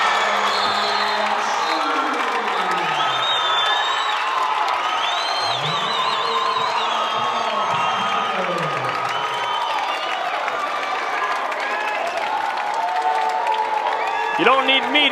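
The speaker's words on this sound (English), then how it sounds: "Just listen to the crowd" A basketball crowd at a Schaumburg vs Barrington game roars and cheers loudly and steadily after a made three-pointer, with whoops and applause filling the gym and a court announcer's voice talking over the noise.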